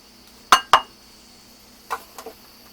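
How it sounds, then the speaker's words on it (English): A utensil knocks against a mixing bowl while cornmeal and flour are stirred together for corn bread: two sharp, close clinks, a pause, then a few softer taps, with no talking. "I'm going to mix the 1 cup of cornmeal with the 1 cup of flour"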